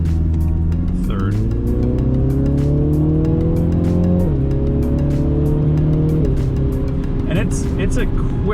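A 2020 MINI JCW Clubman with a 306 hp engine downshifts and accelerates hard, its revs climbing in several steps with quick gear changes, loud and close from inside the car.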